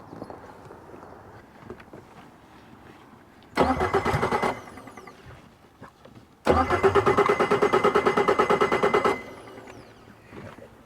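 A Solar 470 Super Jet engine on a boat out on a lake is cranked in two loud bursts, a short one and then a longer rapid chugging run, each cutting off into quiet water and ambient noise.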